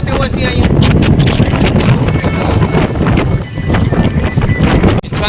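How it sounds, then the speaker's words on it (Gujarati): Strong wind roars across Girnar mountain near Ambaji, a loud continuous gusting rumble buffeting close against the recording, with voices faintly under it. "પવન તો જો"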